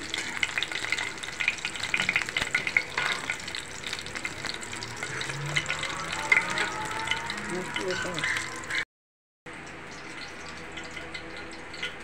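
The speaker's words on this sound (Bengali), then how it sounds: "সবগুলি পাকোড়া আমার ভাজা হয়ে গেছে" Water lily pakoras bubble and crackle in hot oil, a steady dense sizzle with occasional stirring, briefly cut by a short silent gap before the frying resumes.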